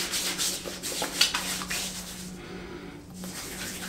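Wet hands rub a menthol aftershave into a face, giving a close, soft, continuous swishing friction with faint slick rubbing strokes and a brief lull near the end.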